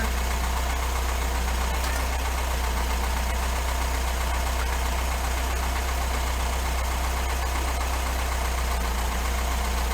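A carbureted Volkswagen Thing engine, freshly swapped into a barn find, idles steadily with a low, even rumble and faint mechanical knock, continuous throughout with no speech.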